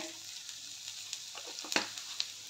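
Dried red chillies and cumin sizzle in hot oil, a soft, steady frying hiss with a few faint crackles and pops, close with no talk.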